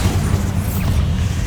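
Bombarda explosion spell in Hogwarts Legacy, a short heavy boom with a deep rumbling low end, loud and close, filling the whole moment.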